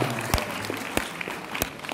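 An audience applauding at a talk, a fairly faint patter of clapping with a few sharper individual claps standing out.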